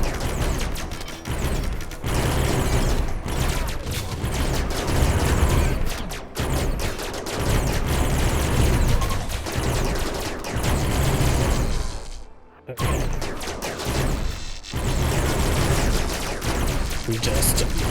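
Dense, continuous gunfire from a RimWorld colony battle, rapid overlapping shots and bursts running almost the whole time with only a brief pause near the end, loud and busy throughout.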